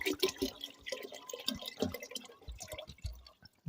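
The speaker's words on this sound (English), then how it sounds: "Yeah, just pour it right in there." Water is poured into a tank nearby, giving irregular close splashes, drips and gurgles at moderate loudness, with brief pauses and no speech.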